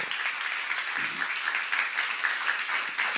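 Steady applause from a church seminar congregation fills the whole stretch, dense continuous clapping with a faint voice briefly underneath.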